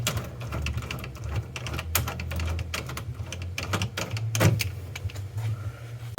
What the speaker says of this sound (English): Use my Astro 1442 nutsert tool to put some more nutserts in the floor.